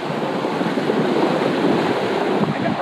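Wind rushes steadily across a sailboat at sea, mixed with the wash of surf and the buffeting of wind on the microphone, a dense, constant noise at close range with no one speaking.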